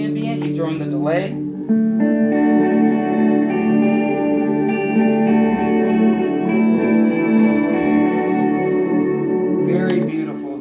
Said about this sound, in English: you throw in the delay.